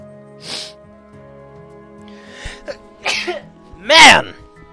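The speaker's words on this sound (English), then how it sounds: "What a sneeze!" A person sneezes in a quiet room, a short sharp burst with a softer sniff or throat sound before it, and the loudest explosive sneeze comes near the end.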